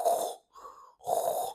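A voice imitates stridor, the harsh, low-pitched grumbling breath drawn in during inspiration in a child's upper airway, given as two rasping breathy bursts with a short quieter gap between them, close and fairly loud.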